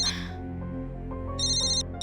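A telephone rings in a household scene from a Hindi TV drama, sounding as bright repeated electronic ringtone bursts over a low steady background, clear and near.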